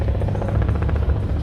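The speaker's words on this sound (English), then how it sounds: "look, there's a Coast Guard helicopter." Coast Guard helicopter passing overhead, a loud steady rotor thump and engine drone filling the whole short stretch with no voices.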